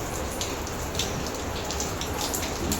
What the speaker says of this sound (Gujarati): વરસાદ છે ને એમનો એક ધારો આખી રાતનો ચાલુ હતો ને અત્યારે એક ધારો ચાલુ જ છે